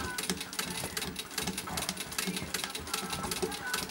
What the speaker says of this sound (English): One thing that's really nice about using a treadle is you can go extremely slow